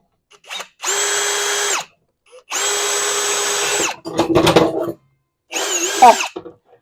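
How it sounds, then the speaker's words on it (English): A power drill whirs in several bursts of about a second each, with a rougher grinding stretch in between as the bit bites into wood drilling a small starter hole for an under-cabinet light install. "Just drill a small starter hole."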